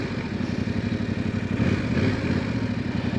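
A motorcycle engine runs close by with a steady, pulsing mid-range drone as the throttle is eased open, the revs and loudness swelling slightly partway through, with no one speaking.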